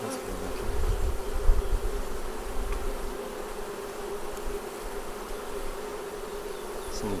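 Honey bees hum in a freshly opened nuc box in the Ozarks, a dense, steady buzzing drone from many bees close by, with some handling thumps early on and no talking.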